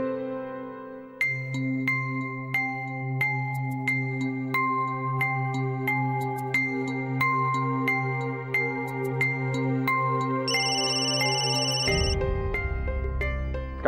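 A telephone ringtone plays a steady repeating electronic melody of bright plucked tones, loud and close, running on for many seconds before shifting to a higher pattern near the end.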